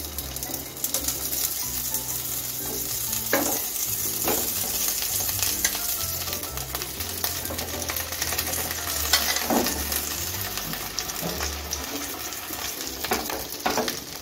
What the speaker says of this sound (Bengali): এখন আমি কপিগুলো একটু ভেজে নেব